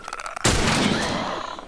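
A single loud gunshot fires in The Last of Us Remastered, a sharp close blast with a ringing tail, following faint muffled activity.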